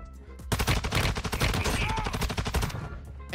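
STB rifle fire in a video game, heard as rapid automatic bursts that crack loudly and keep up fast for almost three seconds after a brief quiet start.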